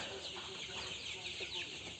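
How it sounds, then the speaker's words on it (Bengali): A flock of golden chickens, about nine hundred birds, on a poultry farm; faint, distant clucking and soft calls form a quiet, busy murmur. "এখানে 1000 মুরগি ছিল, 1000 মধ্যে 100 মারা গেছে, আর এখানে আছে 900টা"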